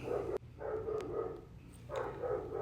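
An indoor dog barks a few times at low volume against a quiet room, the muffled barks spaced unevenly.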